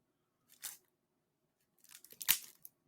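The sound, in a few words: shredding plastic wrapping of board game cards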